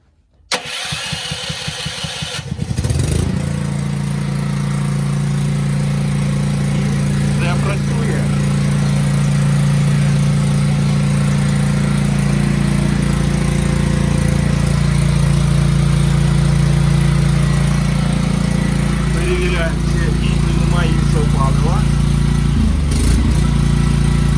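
An engine cranks with a rapid, loud churning, catches after about three seconds and then settles into a steady, even idle that runs on near and loud, with faint talk over it at times.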